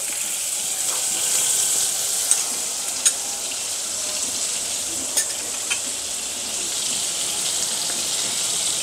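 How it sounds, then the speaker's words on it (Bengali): Butter sizzling in a frying pan while cooking yogurt chicken, a steady bright hiss with a few small pops and crackles, close and continuous, no talk. "আমি মাখনেই প্রথমে আগে একটু রসুন বাটা ভেজে নেব।"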